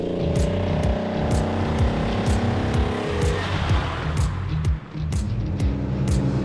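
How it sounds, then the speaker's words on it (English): A Nissan Skyline GT-R Hakosuka warming up, its engine running loud and close with throttle blips and harmonic revving, the pitch rising and falling in repeated bursts before settling back toward idle. "while we're waiting for this engine to warm up"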